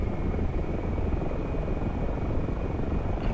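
A steady, loud engine whine and rotor drone from a Bell 47 Sioux helicopter in DCS World as its turbine spools up during startup, holding a constant hum with no talk.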